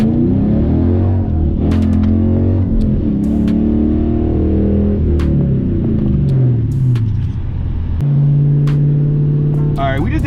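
Dodge Challenger with traction and stability control switched off, sliding at low speed: a loud, close V8 rumble rising and falling in pitch as the engine revs, with a sharp rev jump near the end.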